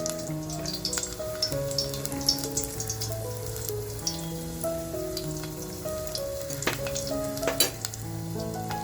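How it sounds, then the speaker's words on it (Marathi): Garlic frying in hot oil for a Malvani crab dish: a continuous close sizzle with scattered crackling pops, heard under tonal background music. "तेल बघा छान तापले लसूण टेचून घेतले ती लसूण टाकते अगोदर"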